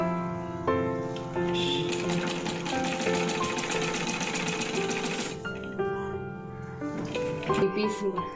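A sewing machine stitches blouse pieces together in a close, steady run that continues through most of the span and then pauses briefly, with a voice talking over it.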